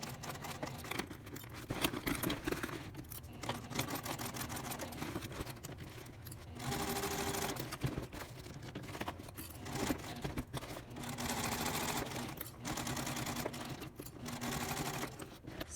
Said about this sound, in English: you need to go to the machine and we will top stitch around the entire top perimeter